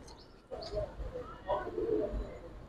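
Silver gribaz pangkhi pigeons cooing, soft low throaty coos repeating a few times close by in a small pigeon market setting, with faint background murmur.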